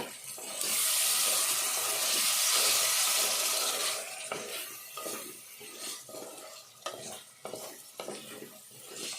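Chickpeas frying in a pan for a chickpea tomato curry: a loud, dense sizzle for several seconds, then quieter sizzling under repeated scraping and clattering stirs, close up.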